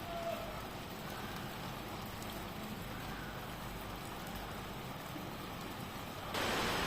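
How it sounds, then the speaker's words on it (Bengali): Heavy rain falling on a cloudy morning in Dhaka, a dense, even hiss of downpour that holds steady throughout and swells slightly louder near the end, with no one speaking. "এই দিকটা দেখেন কি পরিমাণ বৃষ্টি হচ্ছে"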